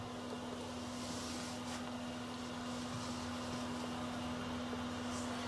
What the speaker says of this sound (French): du temps que mon robot bâtit mes œufs